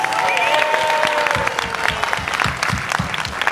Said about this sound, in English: let's give another round of applause for our panel of villains